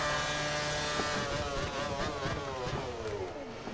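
Formula One car engine in the F1 2013 racing game dropping revs under engine braking into a corner, a loud downshifting whine with falling pitch sweeps and gear blips.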